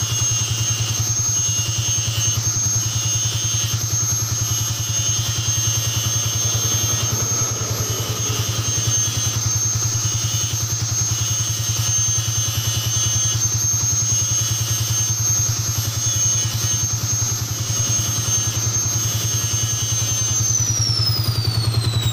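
A Yamaha Vixion motorcycle engine idles steadily and continuously at close range, a constant low hum with a faint ticking clatter and high whine, no voices over it, while the bike's regulator rectifier is tested.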